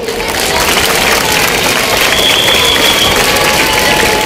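A large audience at a political speech applauds and cheers in a dense, continuous roar of clapping, loud and crowd-filled from start to finish.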